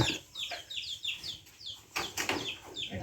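Chickens cluck in a short run of sharp, repeated calls, close and fairly loud, with a denser flurry of clucking near the end.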